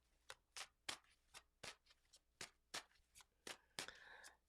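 Tarot cards shuffled by hand during a reading, a series of about a dozen crisp, close riffling snaps in a steady rhythm against a quiet room.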